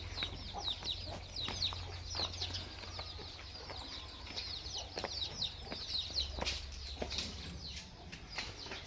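Hens clucking with newly hatched chicks, high thin peeping chirps repeating throughout and faint low clucks underneath, at moderate distance and fairly quiet.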